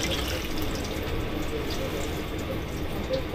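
Water pours steadily into a cooking pot of sauce with mirin, a continuous close splashing and rushing flow lasting a few seconds.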